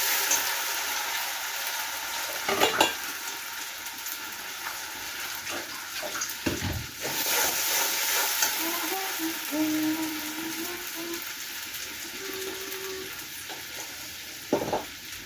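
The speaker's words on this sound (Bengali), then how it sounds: "জিরে ফোড়ন দিয়ে, জিরে তেজপাতা ফোড়ন দিয়ে আদা বাটা দিলাম।" Cumin, bay leaf and ginger paste fry in hot oil, a steady close sizzle with scattered stirring clatters and a faint voice now and then.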